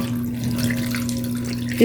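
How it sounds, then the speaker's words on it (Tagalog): Tap water runs steadily into a cooking pot for boiling beef skin with ginger, a constant close splashing stream with a brief louder clatter at the very end. "lagyan natin ng tubig."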